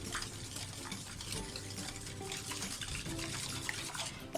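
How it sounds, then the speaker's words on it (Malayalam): Halwa batter of leftover rice water and rice flour mixed in a bowl, a soft continuous wet swishing and sloshing with faint clinks, fairly quiet and steady. "അപ്പോൾ ഇത് നന്നായിട്ടൊന്ന് മിക്സ് ചെയ്ത് കൊടുക്കുക."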